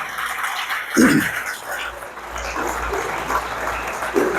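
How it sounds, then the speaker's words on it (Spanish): A church congregation claps at a Spanish-language service, a moderate wash of applause with a brief louder rise near the start and some crowd noise and a stray voice mixed in. "Denle un aplauso al Señor."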